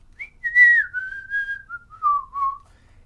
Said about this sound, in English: Does the classic whistling tune everyone knows.